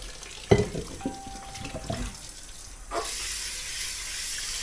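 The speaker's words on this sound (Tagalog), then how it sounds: "Hugasan ko lang muna saglit." Tap water runs over meat in a kitchen sink, a soft hiss that keeps on with a few knocks and splashes. A brief clatter from handling comes in near the start, and the flow sounds stronger toward the end.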